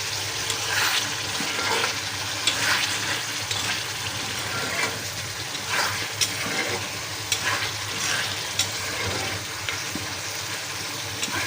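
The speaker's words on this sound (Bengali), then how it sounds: "তো আমার ডিমগুলো একদম হয়ে গেছে, একদম মাখা মাখা করবো এটাকে।" Eggs sizzle in oil in a pan while being stirred, with repeated scraping strokes of the spatula over a constant close frying hiss.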